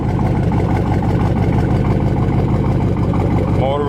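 The original 396 V8 of a 1970 Chevrolet Chevelle SS idles with a deep, steady, loping rumble, loud and close throughout.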